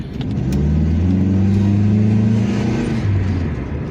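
A 1998 Dodge Neon engine idles steadily while warming up, a close, even rumble with a faint rise in pitch and no voices over it.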